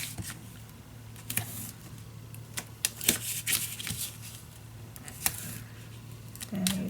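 Close, quiet crinkling and tearing as tape is pulled and pressed onto a paper pocket for a scrapbook mini album, with scattered sharp rips and rustles over faint background hum.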